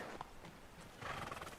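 Horses gallop away in a film scene, with quick rhythmic clip-clop hoofbeats and a neighing whinny. The sound is moderately distant and fairly faint.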